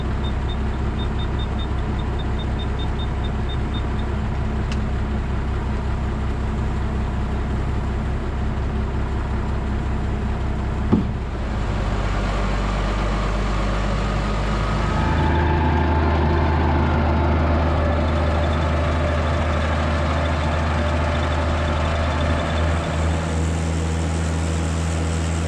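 A farm vehicle carting soil, its engine idling in a steady low drone that shifts to a deeper, heavier rumble partway through, with one brief knock near the middle.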